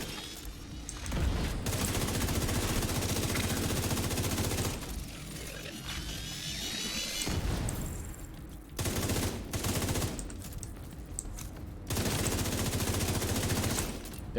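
Sustained automatic gunfire from The Division 2, with long rattling bursts of a full magazine, brief pauses, then more loud volleys and scattered shots through the fight.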